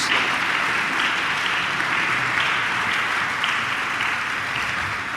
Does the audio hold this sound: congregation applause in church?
yes